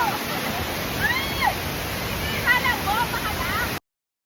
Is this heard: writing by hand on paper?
no